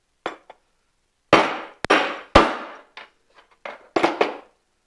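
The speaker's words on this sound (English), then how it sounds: "That just pounds your bushing out" A punch tool is hammered to knock out the cam arm bushing on a Polaris snowmobile drive clutch, producing a series of sharp metallic strikes with ringing decays, some loud and some light taps, spaced irregularly.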